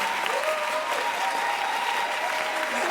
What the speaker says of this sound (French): Faut pas applaudir.